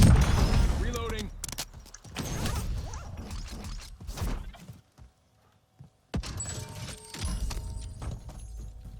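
Weapon reloading in the Warzone video game, heard as a burst of sharp mechanical clicks and metallic clacks, then a short silence and more clattering handling sounds, with game ambience around them.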